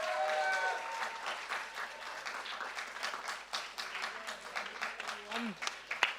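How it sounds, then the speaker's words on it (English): A live poetry event audience gives scattered, moderate applause that fades gradually, with voices and a few cheers mixed in. "Give it up again, please. Round of applause"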